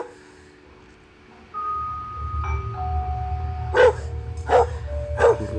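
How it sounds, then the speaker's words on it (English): A dog barks three times in a row, sharp and fairly close, over a low rumbling background with faint tonal hum. "Bette's dog is a little freaked out as well"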